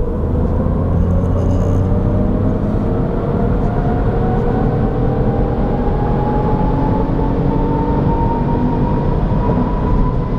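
A 2022 MINI Cooper 5-door in sport mode accelerates hard with kickdown, heard from the cabin as a loud, steady engine roar. The engine pitch climbs gradually over ten seconds under road rumble, with no speech.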